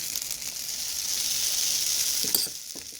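Oatmeal waffle batter steams and sizzles inside a closed waffle iron, a steady soft hissing that holds throughout, with a faint click near the end.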